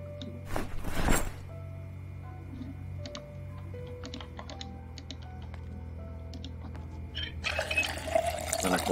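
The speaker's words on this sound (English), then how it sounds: "actually, I need to pour it into those two bowls now." Water poured from a container into two bowls in the survival game Project Zomboid, a soft trickling fill around the middle seconds among clicky keyboard-like taps, with a brighter rushing burst near the end.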